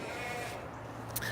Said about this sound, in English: So this is what happens when a donkey's in season.